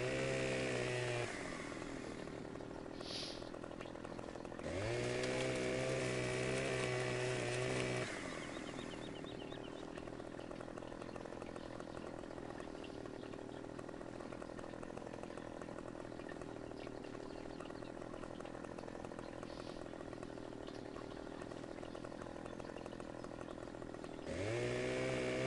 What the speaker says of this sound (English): I've got some skill with a chainsaw